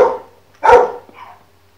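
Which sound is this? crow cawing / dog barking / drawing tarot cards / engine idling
dog barking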